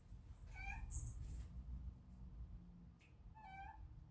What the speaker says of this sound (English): That's a cat acting up.